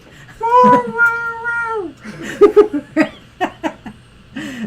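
A cat meows loudly in a long, drawn-out cry, followed by several shorter meows and chirps close by.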